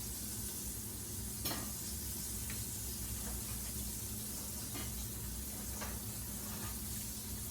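Constant close sizzling of green tomatoes frying in about half an inch of hot oil, with a few soft pops and crackles over a steady hiss; no talking.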